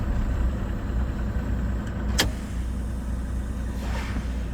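Volvo truck engine running steadily during a service brake test, a continuous low rumble held at even loudness with a brief sharp click partway through, no talking.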